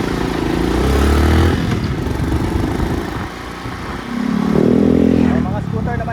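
A scooter or motorcycle passes along a narrow shop-lined street in Tanay, its engine swelling near, fading, then another rising again, with people talking over it.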